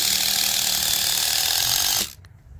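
A power driver sinks a big-headed screw into a cut tire half block for an earthship build, a loud, steady high whirring ratchet that runs for about two seconds and then stops sharply, leaving faint near silence.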